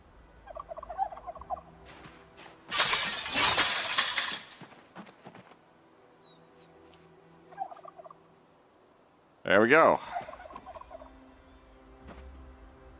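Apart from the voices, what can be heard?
turkeys gobbling in a video game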